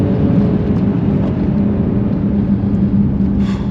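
A Mercedes-AMG GLC 63 S Coupé with its V8 makes a loud, deep, continuous engine roar from inside the cabin during a standing-start launch, holding strong throughout.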